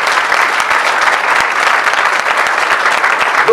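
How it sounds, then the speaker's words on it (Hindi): A church congregation at a Sunday Urdu sermon breaks into loud, sustained applause, a dense steady wash of clapping close by with no talking over it. "यीशु मसीह के लिए जोरदार तालियां,"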